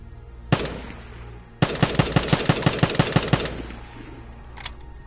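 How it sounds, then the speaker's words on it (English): M2 carbine firing in a video game: one single shot, then a rapid automatic burst of about a dozen sharp cracks, and a faint last shot after a pause, no talking. "this is the M2 carbine"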